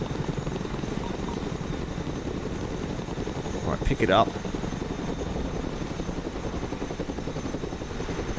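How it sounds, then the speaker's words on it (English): A Chinook cargo helicopter's rotor in the video game Broken Arrow chops steadily and loudly throughout, with a brief voice speaking over the noise partway through. "Let's go and recover it with our helicopter."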